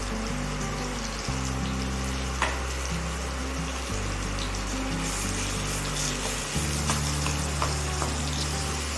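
Five large long-sliced onions fry in hot oil, a steady close sizzle with continuous bubbling crackle and faint stirring throughout, no talking.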